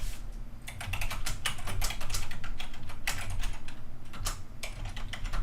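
Rapid typing on a computer keyboard, a dense stream of close, crisp key clicks with uneven rhythm and no talk.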